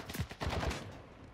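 Enemy gunfire in Call of Duty: Modern Warfare II comes as a brief, rapid burst of automatic shots, fairly quiet, then trails off.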